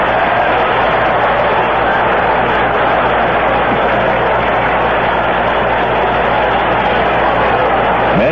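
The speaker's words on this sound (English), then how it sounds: "Crowd reaction to a catch made in the stands." A large ballpark crowd at a Mets at Giants baseball game roars in a sustained, loud wash of cheering and noise after a catch in the stands, steady throughout.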